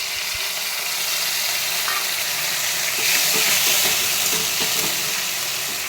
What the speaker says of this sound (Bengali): তেল ছেড়ে দিয়েছে, এবার এই বাটি ধোয়া জলটা আমি দিয়ে দেবো